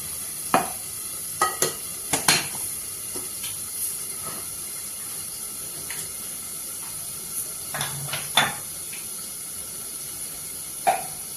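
Mustard seeds and a spoonful of urad dal crackling in hot oil in a pan for a raw banana stir-fry, a quiet hiss broken by scattered sharp pops and spatters, no talking.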